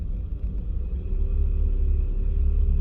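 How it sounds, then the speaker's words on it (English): Road traffic at an intersection on Maryland Parkway in eastern Las Vegas makes a steady low rumble that swells slightly as vehicles idle and pass nearby. "And traffic here"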